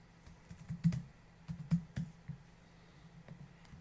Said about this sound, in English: you type in the answer